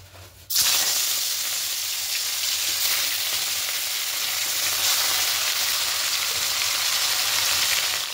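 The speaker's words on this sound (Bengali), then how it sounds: "এবার একে একে মাছগুলো দিয়ে দেব।" Catla fish pieces drop into hot white oil and burst into a loud, steady sizzle after a brief quiet start, frying continuously up close.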